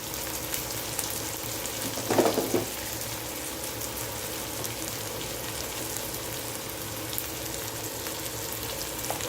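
Brinjal curry sautéing in a pan with Malvani masala, a steady faint sizzle and fry running throughout, with a brief louder stir or scrape near the start.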